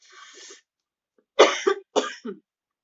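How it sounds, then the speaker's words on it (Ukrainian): A short breathy exhale, a pause, then two close, sharp coughs in quick succession. "Щось я кашлять почала"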